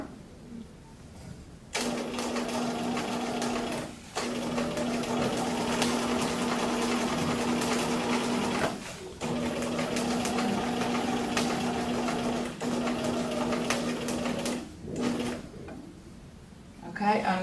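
Sewing machine stitching a very small reinforcement stitch on a sleeve placket, running in steady mechanical bursts of a few seconds each with short pauses between, close and clear.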